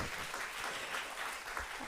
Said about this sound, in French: Je pense qu'on peut aussi applaudir les traducteurs,